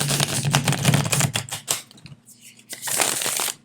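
Two bursts of crisp, rapid riffling shuffles of a deck of playing cards on older US Games cardstock, close and loud, with a short quieter gap of soft handling between them.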